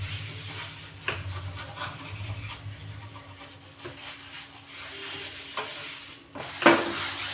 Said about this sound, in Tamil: இந்த ஸ்க்ரப்பர் வச்சு நம்ம லைட்டாக அப்படி தேய்ச்சிக்கிடணும்.